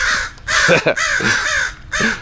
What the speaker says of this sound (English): I heard a frenzy of crow noise